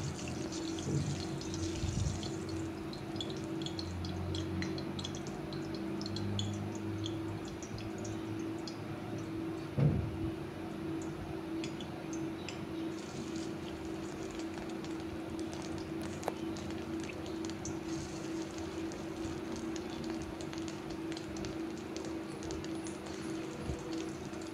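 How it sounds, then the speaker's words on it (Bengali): Fish roe fritters frying one by one in hot oil, a steady close crackle and sizzle running throughout with occasional small pops and clicks, no voices. "এবারে এক এক করে বড়াগুলো ভেজে নিচ্ছি।"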